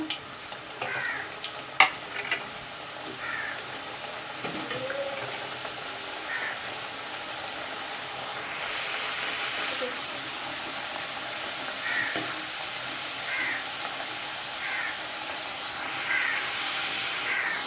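French fries deep-frying in hot oil for a KFC-style recipe give a steady, moderately loud sizzle and bubbling hiss with occasional stirring clinks, and no talk.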